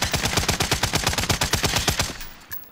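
Rapid automatic gunfire in a video game rattles out in a fast, even burst of loud shots for over two seconds, then cuts off.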